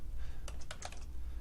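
A few quick keystrokes on a computer keyboard while searching for software in Ubuntu, a short close burst of light clicks over a steady low hum.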